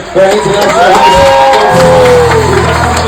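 Audience applause and cheering for cruise ship team members fill a loud, packed room, with whoops rising over steady clapping while someone talks over the noise.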